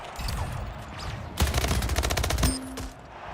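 Gunfire in the game Splitgate comes as a rapid, dense run of sharp shots lasting about a second, with faint game sounds before and after.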